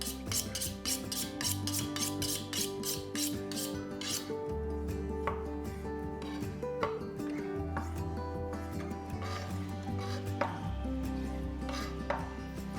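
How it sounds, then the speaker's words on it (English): A knife cuts cherry tomatoes in half on a board for a farm salad, with a rapid run of close, crisp taps at first, then slower scattered cuts over a low steady hum and some background music. "Cut the cherry tomatoes in half."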